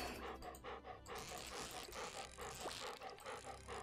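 Loud, steady dog panting from the video game Stardew Valley, a continuous rhythmic breathing that fills the whole stretch, close and prominent over the game's background sounds.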